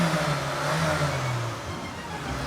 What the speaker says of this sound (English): Can you rev the engine, mate?